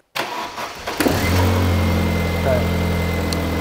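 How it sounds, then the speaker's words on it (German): An Opel Omega engine cranks briefly, catches after about a second and settles into a loud, steady idle with a low droning hum, recorded up close. "Gang raus, starten Sie mal das Vehikel"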